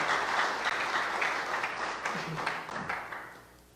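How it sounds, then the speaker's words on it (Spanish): A church congregation at a Sunday service claps loudly, a dense wash of applause with a few voices mixed in that fades slightly toward the end. "Denle un aplauso fuerte al Rey de la Gloria"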